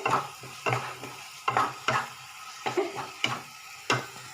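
Repeated scraping stirs fried masala in a frying pan, about eight strokes at a steady rhythm, close and fairly loud with a light sizzle underneath.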